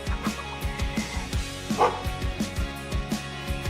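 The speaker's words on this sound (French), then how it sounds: "Un petit chien abandonné super rapide et qui adore le poulet." A small abandoned dog barks repeatedly in a steady rhythm, about five or six sharp yaps spaced evenly, close by on a mountain trail with some background noise.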